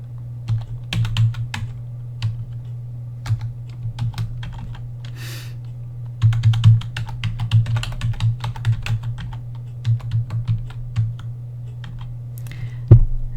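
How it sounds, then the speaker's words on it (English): Fingers tap a computer keyboard to enter a web address into a browser, producing irregular bursts of close, crisp key clicks with short pauses and a steady low hum beneath. "I'm going to type in the address to the wiki."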